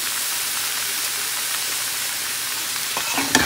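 Ridge gourd and lightly fried potatoes in a pan give a loud, continuous, hissing sizzle close up, with a brief clatter of utensils near the end.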